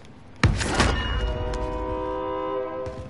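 Train pulling into a station in the video game Call of Duty Warzone, with a loud clank at its arrival and then a steady rumble carrying sustained whistle-like metallic tones that linger close by.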